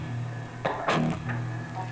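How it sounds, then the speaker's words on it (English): Single electric guitar notes played tight through a quad reverb, short plucked attacks each followed by a brief room-like ring, heard alone and close. "If I played a note really tight, it would sound like this."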